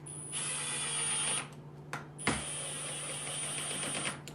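A power drill with a 3/8 Forstner bit bores into wood, running in two steady whining bursts separated by a brief pause, close and fairly loud with a high tonal hum.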